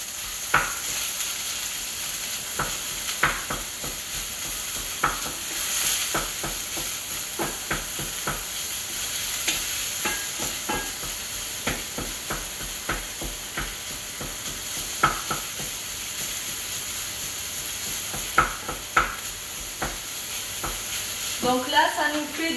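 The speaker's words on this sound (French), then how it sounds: "On remue." Soy mince sizzles and fries steadily in a pan for a vegetarian low-GI bolognese, broken by repeated scraping clicks of stirring throughout, close and moderately loud with a faint voice at times.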